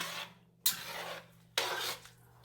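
Black beans being stirred in a pot in a home kitchen, two distinct scraping sweeps of a spoon against the pot, each lasting under a second, close and clear over a faint steady hum.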